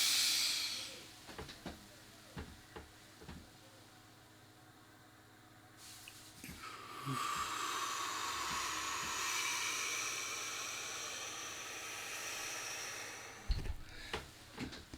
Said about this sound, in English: Okay, the way I do it is I extend my hands and I breathe through the nose.